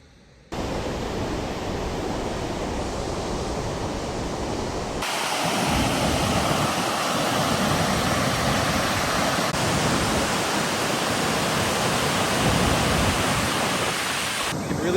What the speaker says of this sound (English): Whoa, this waterfall is huge. It's gonna be loud.